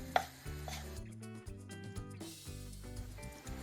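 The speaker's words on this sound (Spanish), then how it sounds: "lo vamos cortando en pequeños cubitos para hacer el relleno." A knife cuts beef tripe into small cubes on a board, giving a run of soft, irregular chopping taps at close range, each with a short thud and no voices.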